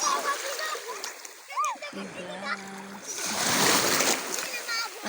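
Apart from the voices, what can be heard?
children splashing while swimming in the sea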